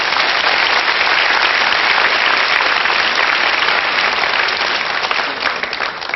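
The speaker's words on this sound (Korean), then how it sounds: "지금 박수 쳐주시면 안 되는데." A large studio audience at a Korean lecture show gives steady, dense applause that holds at an even, loud level for about six seconds without a break.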